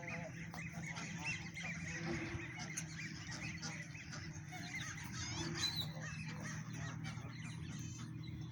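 Ducks and geese at a park being fed, a flock honking and quacking in a busy overlapping chorus at moderate distance, with faint background noise and no clear talk.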